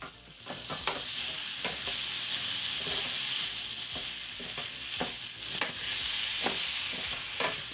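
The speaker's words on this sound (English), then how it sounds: "I will add the rest of the vegetables here, the peppers, the onions, and the scallions whites." Peppers, onions and scallion whites fry briskly in masala paste, a dense close sizzle with regular spatula scrapes and taps against the pan throughout, no speech.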